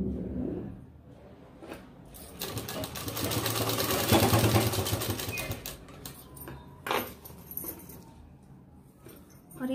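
Sewing machine stitching a collar onto the neckline of a ladies' kameez, a dense rapid whirring run in the middle, quieter rattles before and after with a few sharp clicks, close and fairly loud.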